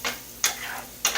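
Eggs with cracked yolks and onion being stirred in a pan: three short, soft scraping strokes at a slow, even pace, close and fairly quiet.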